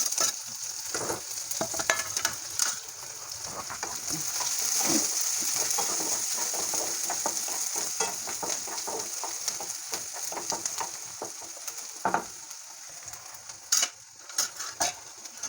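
Onion frying in oil after green chilies, stirred with a utensil in a pan: steady sizzle throughout with scraping stirs and a few sharp clinks of the spoon against the pan, no talking.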